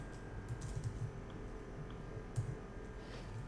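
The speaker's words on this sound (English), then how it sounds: "we're going to type ordered list again, li again, title." HTML code is typed on a computer keyboard, soft, quiet key taps in short sparse bursts over a low room hum.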